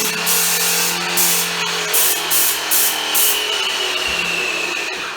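A loud, steady mechanical hiss of a paint sprayer running close by indoors, pulsing in several short bursts over a continuous motor hum.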